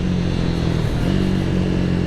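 A Triumph Speed 400 motorcycle engine pulls hard under acceleration at speed, a loud, steady mid-pitched drone with wind rush, continuous and close.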